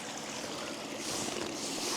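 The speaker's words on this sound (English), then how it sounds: "There's a stream nearby for water." A stream flowing near a wild camp in the Scottish Highlands in winter, a faint steady rushing wash of water with no voices.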